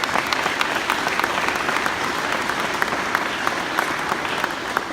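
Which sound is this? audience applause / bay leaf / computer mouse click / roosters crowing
audience applause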